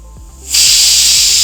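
A pressure cooker on the stove, cooking pineapple with sugar and water for payasam, suddenly lets out a loud, steady steam whistle-hiss that starts after a brief quiet moment and holds strongly to the end.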